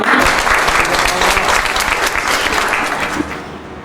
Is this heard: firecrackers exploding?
no